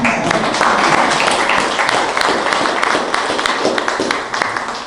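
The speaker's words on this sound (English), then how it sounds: "So give us a round of applause." Audience applause at the Onaga Historical Society's 50th anniversary and building dedication, a steady, dense wash of many hands clapping that fills the room for the whole stretch and fades slightly at the end.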